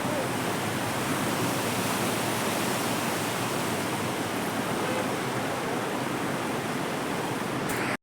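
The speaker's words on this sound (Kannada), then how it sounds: "ಆ ಬ್ರಿಡ್ಜ್ ಹತ್ರನೇ ಇಷ್ಟೊಂದು ನೀರೆಲ್ಲ ಹೋಗ್ತಾ ಇರೋದು" Fast river water rushes under an old bridge as a dense, unbroken roar, loud and close throughout.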